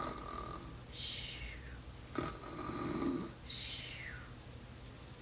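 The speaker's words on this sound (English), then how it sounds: "he snores big snores" A big bear in a spring meadow, full from eating honey cakes, snores loudly in two long, rasping rising-and-falling breaths with a snort between them, close and alone.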